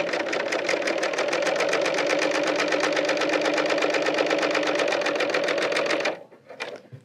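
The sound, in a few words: Bernina L890 serger sewing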